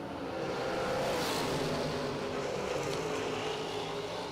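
A Corvette Roadster drag racing car at the SFG Half Million event gives off a loud, continuous broadband engine roar that stays constant throughout, with no talking.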